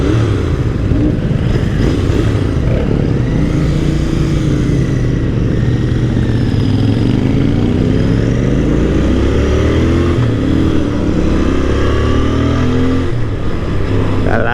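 Royal Enfield Interceptor 650 motorcycle, a 2024 model, being ridden with its engine revving up and down through gear shifts, rising and falling pitch sweeps over wind rumble, loud and close throughout.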